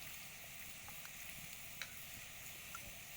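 Bottle gourd and soybean chunks frying in a pan, a faint, even sizzle with a few small pops and ticks, quiet and steady throughout.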